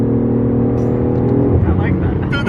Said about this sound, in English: And the motor's got like this brap sound to it, but I mean, it's probably the exhaust itself